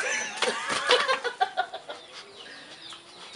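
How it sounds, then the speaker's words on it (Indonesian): Chickens cluck and squawk close by with a few duck-like calls mixed in at a fish pond harvest, busy overlapping bursts that thin out toward the end. "Suaranya ayam bebek juga."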